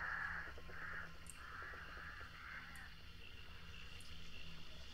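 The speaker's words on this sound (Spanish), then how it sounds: "A ver si nos alertan los cuervos." Crows in the video game Hunt: Showdown caw several times in a row, faint and distant over a low ambient game background.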